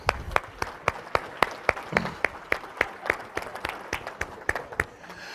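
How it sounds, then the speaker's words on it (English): A small conference audience gives a round of applause, with distinct, fairly regular claps from a few people rather than a large crowd, moderately close and with no talk over them. "let's come back together with a round of applause"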